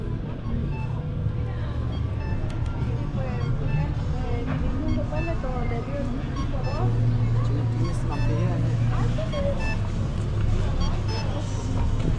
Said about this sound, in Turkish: Trafiğe bakar mısınız? Arabalar zor kımıldıyor.